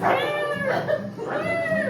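A human voice imitates a deaf cat trying to meow, producing two drawn-out, strained, warbling yowls close to the microphone.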